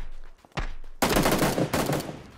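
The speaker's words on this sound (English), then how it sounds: "he's shooting at somebody behind us" Video game gunfire erupts in rapid bursts, a couple of sharp isolated shots followed by a loud sustained volley of automatic fire, close and dominant with no talk over it.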